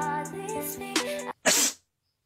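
A single sharp, close sneeze bursts out after a brief silence, with a short inhale followed by a loud explosive exhale, tailing off quickly into quiet after a stretch of tonal background sound.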